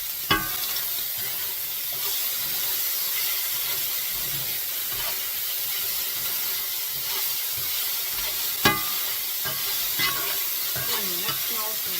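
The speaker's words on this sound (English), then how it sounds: "Stir it up." Pork and sauce for moo shu pork being stirred as it fries in a hot pan, a steady close hiss and sizzle running the whole time with a couple of brief scraping clacks of the utensil.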